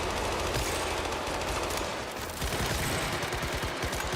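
Bursts of automatic gunfire in the survival game Once Human fire as warning shots. Loud, rapid volleys keep coming, pause briefly, then pick up again in fast repeated shots.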